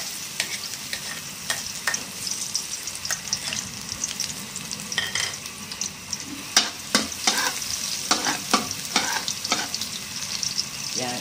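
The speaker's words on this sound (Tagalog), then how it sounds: "Yan guys, mainit na yung ating oil. Una kong igigisa itong garlic." Garlic sautés in hot oil in a pan, a quiet sizzle broken by repeated sharp scraping and clattering strokes that grow busier toward the end.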